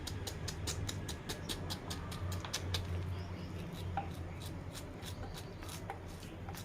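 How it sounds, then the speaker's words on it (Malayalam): A knife chops peeled ripe pineapple into tiny pieces on a board with quick, evenly spaced taps, fairly faint over a low background hum. "പൈനാപ്പിളിന് പുറത്ത് തൊലിയൊക്കെ ചെത്തി കളഞ്ഞിട്ട് ഇതിനെ കുനുകുനാന്ന് അരിഞ്ഞെടുക്കണം."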